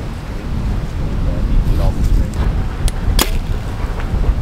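A bow shot outdoors on a deserted island shoreline, with one sharp arrow impact or release snap standing out over steady wind and surf noise.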